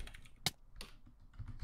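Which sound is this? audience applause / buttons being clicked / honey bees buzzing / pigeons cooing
buttons being clicked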